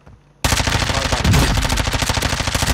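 A loud burst of rapid automatic gunfire breaks out suddenly in a shooter video game after a quiet moment and keeps rattling continuously to the end.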